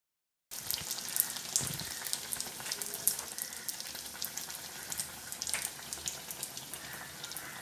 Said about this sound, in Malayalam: ഇനിയിപ്പം നമുക്കിതെല്ലാം എണ്ണയിൽ നിന്നങ്ങ് കോരി മാറ്റിയിട്ട് അടുത്തതും ഇതേപോലെ അങ്ങനെ അങ്ങ് പൊരിച്ചെടുക്കാം